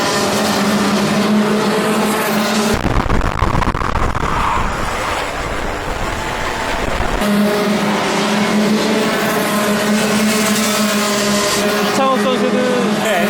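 Racing karts run on the KIC circuit in Yeongam, one driver with an ongoing engine fault; high buzzing engines whine past loudly, and a louder mass of engine roar swells through the middle while a commentator talks over it.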